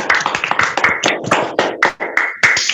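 Classroom applause for a student named Faiz, a short burst of clapping hands from a group, close and fairly loud, with uneven rhythm and no talk.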